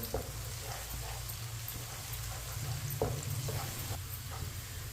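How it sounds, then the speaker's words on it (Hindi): Soft, low sizzling of onions frying to light brown in a pan, with occasional light stirring scrapes, fairly quiet and steady. "प्याज को हम ब्राउन कर लेंगे। इसे फुल ब्राउन नहीं करना, हल्का सा ब्राउन करना है प्याज को।"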